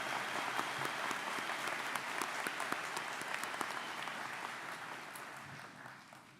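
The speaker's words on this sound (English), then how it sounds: "Let's all give these students a round of applause." Sustained applause from a large commencement audience for graduating students, dense steady clapping that fades slightly toward the end.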